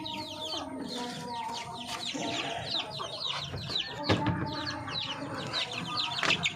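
Young chicks feeding in a breeder's pen, with dense overlapping chirps and soft clucking, scattered pecking taps and brief wing flutters, steady and close with no one speaking.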